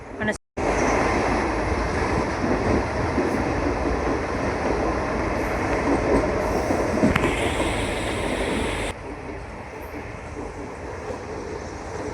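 A passenger train between Wankaner and Morbi rumbles along steadily from inside the carriage, a loud continuous roar of wheels and wind that drops away sharply near the end.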